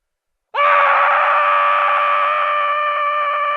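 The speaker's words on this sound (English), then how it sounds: "you put the cheesehead over your mouth and you scream as loud as you possibly can until you pass out" A man screams as loud as he can into a foam cheesehead, one sustained, strained cry that starts abruptly after a brief silence and holds loud and close for about three seconds.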